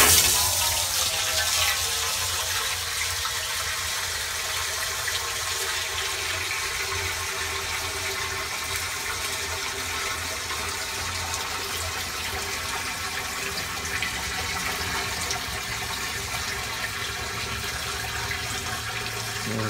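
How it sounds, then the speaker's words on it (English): Water poured steadily into the water pan of a Weber Smokey Mountain smoker while smoking a brisket, a continuous rushing, splashing pour at close range lasting the whole stretch, with no talking. "We're gonna add the water."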